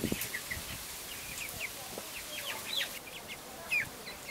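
Chickens in a temporary chicken-wire coop on a homestead on Ios Island give soft scattered clucks and chirps, fairly quiet against a hissy outdoor background, with no talking.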